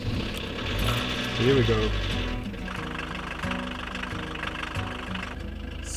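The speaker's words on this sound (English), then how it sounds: "This is another cold start for the van." An old diesel van engine cold starts and settles into a rough, knocking idle, loud and close, with a short spoken remark just before it catches.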